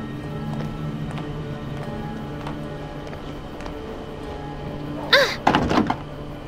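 A locked door being tried in the adventure video game A Vampyre Story: a low steady ambience, then a short burst of knocking thunks and rattles near the end.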